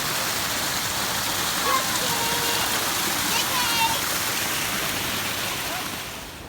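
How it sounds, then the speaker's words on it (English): Constant roar of a large waterfall heard from a hiking lookout, a broad steady rushing wash that fills the whole moment and tapers slightly at the end, with faint voices beneath. "we made it to the waterfall."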